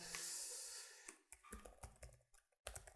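Keystrokes on a computer keyboard clatter in short irregular bursts at close range, quiet overall, with no talking.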